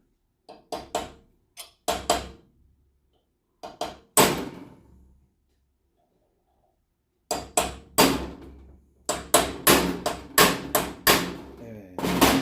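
Sharp metallic hammer taps on a center punch in irregular clusters, some light and single, others in quick runs of several strikes, with brief pauses between groups, marking the center of a broken screw inside metal.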